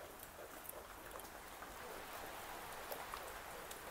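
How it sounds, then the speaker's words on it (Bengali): Steady rain falls outside in a continuous, even hiss with no distinct drops standing out, a soft wash of sound during a home cooking session. "দেখেন কি সুন্দর বৃষ্টি পড়ছে"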